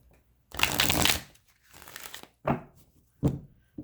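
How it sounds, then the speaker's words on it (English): Tarot cards being shuffled by hand: a long riffling burst, then a softer stretch and two short, crisp shuffles, close up and alone. "Bear with me while I shuffle."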